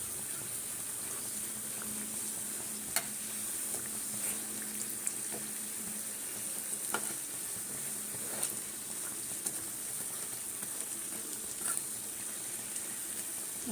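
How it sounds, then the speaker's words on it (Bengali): Nimki dough pieces fry in oil over a low gas flame, giving a steady, faint bubbling hiss with occasional soft pops and no voices. "এই যে দেখছো পাট পাট এগুলো সব ভাজা হয়ে যাবে"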